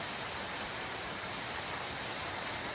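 Steady broadband rain hiss from the Offroad Outlaws video game, an even, unbroken wash of falling rain heard alone with no voices over it.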